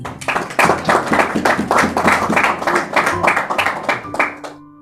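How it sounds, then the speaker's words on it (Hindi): A church audience at a Christmas sermon claps loudly and steadily, many hands beating together for several seconds before the clapping stops abruptly. "जोरदार तालियां पड़ेंगी।"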